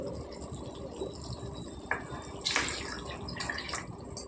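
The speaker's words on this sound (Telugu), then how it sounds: "ఇప్పుడైతే మనం ఇందులో నీళ్ళు వేసుకుందాం" Water is poured into a simmering prawn and drumstick curry in a cooking pot, a brief splashing burst near the middle followed by lighter trickling and bubbling, close and moderately loud with no talking.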